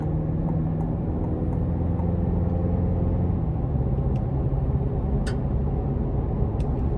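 A 2024 GMC Canyon AT4X pickup drives onto an interstate, a steady loud low road and engine rumble heard from inside the cab, with a few faint ticks and clicks over the drone.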